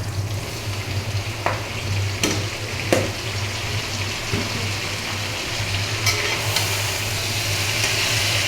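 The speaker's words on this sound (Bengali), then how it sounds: "ভাজা হয়ে গেছে আমি একটা শাক দিয়ে দিব" Red amaranth greens frying in a pan, a dense continuous sizzle up close with a low steady hum beneath and a few sharp clinks of a spatula.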